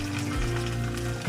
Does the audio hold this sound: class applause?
no